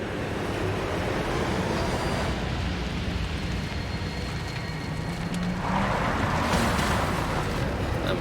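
A 3-ton car pushes through a greasy, muddy bog hole in the Australian outback, its engine a continuous loud rumble with sloshing and churning throughout and a brief swell of splashing near the end.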